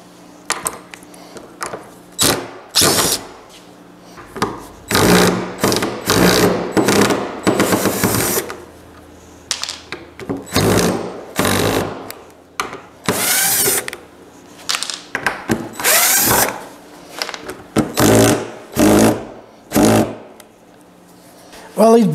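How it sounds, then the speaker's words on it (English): A power drill backing screws out of plywood boards on a shop dolly, loud close bursts of whirring and ratcheting motor noise repeated in short runs with gaps between screws. "I'm going to take some of these screws out"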